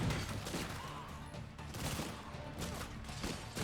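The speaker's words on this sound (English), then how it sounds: "I'm gonna let the people with all of the free ammo do the shooting" Rapid gunfire crackles through a horde fight in State of Decay 2, with dense overlapping shots and impacts at fairly low volume, sounding somewhat distant and busy throughout.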